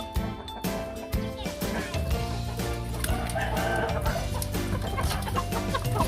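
Chickens cluck close by as they leave the coop in a busy, continuous chatter, many birds calling over one another.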